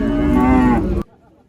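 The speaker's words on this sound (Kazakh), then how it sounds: "Бұзау, баспақ." A calf lets out one loud, close moo at a livestock market in Kyzylorda, a drawn-out bellow that cuts off sharply and leaves near silence.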